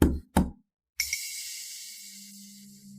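Two sharp knocks on a door, close and distinct, followed by a pause and then a sustained ringing tone with a faint hum.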